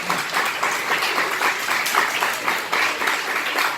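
An audience at a conference breaks into steady applause, a dense wash of many hands clapping for a few seconds with no speech over it.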